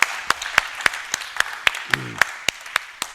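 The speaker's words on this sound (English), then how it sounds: "Give Dipper another round of applause" A small audience gives Dipper a round of applause at a motivational talk: sparse, distinct claps at an uneven but steady pace, close and clear, with a brief voice partway through.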